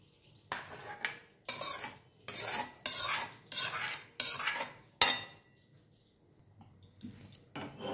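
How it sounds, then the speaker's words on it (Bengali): A metal spoon stirs spices and chopped vegetables into barnyard millet khichdi in a pot, scraping in about seven close, rhythmic strokes, then a pause with quieter clinks. "একবার ভালো করে এগুলোকে আমরা মিশিয়ে নেব।"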